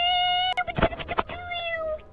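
Pet cats in Minecraft, a quick cluster of several high, close meows over a sustained game tone, with no talking.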